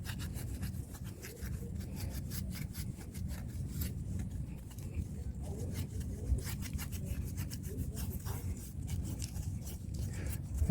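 Steady scrubbing on the driver's side of an engine block during an LS swap into a 1987 Trans Am, a continuous close rasping rub with brief stroke accents, alone without talk.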